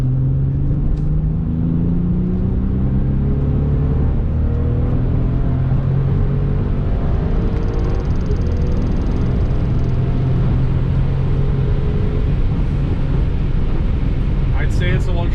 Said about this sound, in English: Very smooth acceleration, nothing I wouldn't expect from a Bentley.